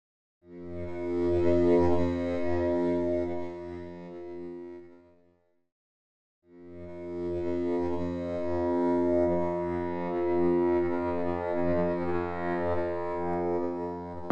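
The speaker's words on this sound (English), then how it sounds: "I want to go down to the insert effects. Let's add some chorus." A synth pad played in NI Kontakt with a chorus insert effect, sustained rich harmonic chords ringing for about five seconds, a brief silence, then a second long held chord, loud and steady with no talking.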